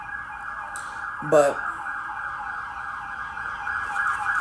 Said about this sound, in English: we have the siren coming through again